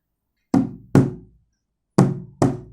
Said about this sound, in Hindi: टक टक की आवाज़ सुनाई देती है।